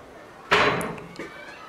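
A bedroom storage door, likely a wardrobe or built-in closet door with shelving behind it, shuts with a single sharp thump, followed by a softer knock as it settles.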